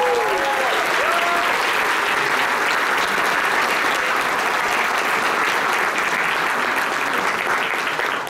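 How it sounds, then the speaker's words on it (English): A large crowd at a Gamescom 2014 Star Wars: The Old Republic Q&A applauds loudly and steadily for the whole stretch, a dense wash of clapping with a few whistles near the start. "Can we have a round of applause?"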